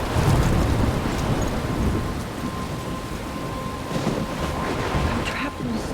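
Thunderstorm in the video game Life is Strange: steady heavy rain and rumbling thunder fill the whole stretch at constant loudness, with no voices over it.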